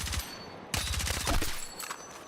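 Automatic gunfire in the Battlefield 6 video game, rapid bursts of sharp, punchy shots with a brief gap between volleys, loud and close with ringing echoes trailing off at the end.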